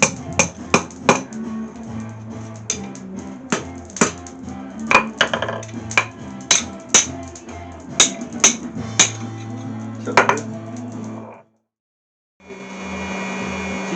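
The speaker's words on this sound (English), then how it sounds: "I'm using the horn of the anvil here." A hammer rings on hot hinge iron worked over an anvil horn while forging Mastermyr style hinges, with loud sharp metallic strikes at an uneven pace. A steady whooshing forge or blower hum runs underneath and briefly cuts out near the end.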